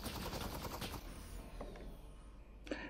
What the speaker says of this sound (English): Oh, now you're shooting me, okay.